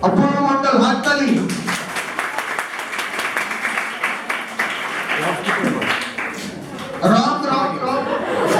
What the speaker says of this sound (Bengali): অপূর্ব মন্ডল, হাততালি।